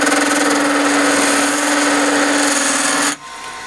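A woodturning tool chatters against pipe on a lathe, giving a steady, harsh, buzzing scrape with a strong tonal hum that runs for about three seconds before cutting off abruptly.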